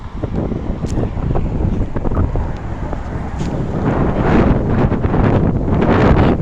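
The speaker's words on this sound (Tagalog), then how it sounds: "Grabe kasing hangin guys." Strong winter wind in Macau buffets the microphone in a loud, continuous roar with gusty surges, growing heavier toward the end.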